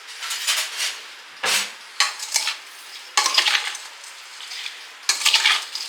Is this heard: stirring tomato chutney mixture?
yes